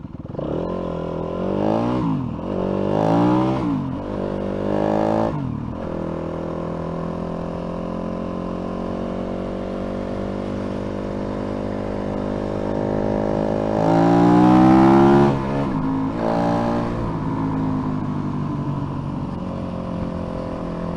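Yamaha WR250F dirt bike engine running close by: several sharp revs at the start, then a long steady idle, then another strong rev and a fall back to idle.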